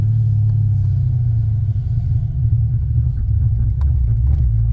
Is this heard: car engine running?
yes